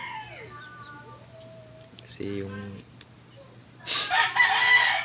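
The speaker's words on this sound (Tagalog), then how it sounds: "tilaok nito is napakabangis" A wild junglefowl rooster crows loudly nearby in a long, harsh call, following a short stretch of talking with a steady low hum in the background.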